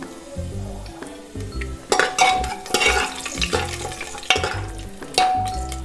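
Cumin, dried chillies, cardamom and cloves sizzle in hot oil in a pressure cooker for a fish curry, a steady crackling fry under repeated scraping and clinking of a spoon against the metal pot.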